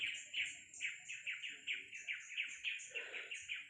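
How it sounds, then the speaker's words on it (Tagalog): Birds call and chirp in a quick repeated series of high tweets, fairly close and steady throughout, heard in a forest during a hunt for fruit. "Ito mga birds."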